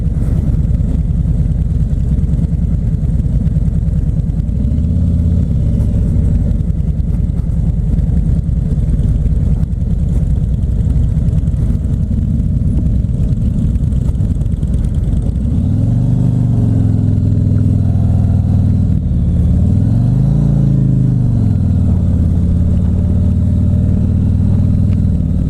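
A 2017 Harley-Davidson Ultra Limited motorcycle on a test ride sends out a loud, constant low engine rumble with a couple of rising and falling throttle swells partway through, heard close with no talking.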